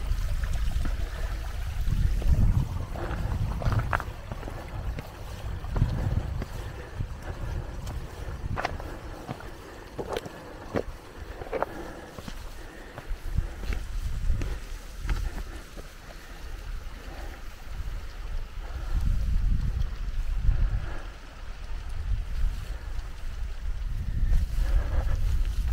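Steady wind on a high mountain plateau rumbles and gusts amid light rain, with scattered soft crunches and knocks, like footsteps, throughout.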